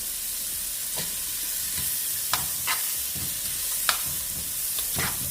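Butter and garlic sizzle steadily in a pan while food is tossed, with a few sharp clinks and scrapes of the utensil standing out above the continuous frying hiss.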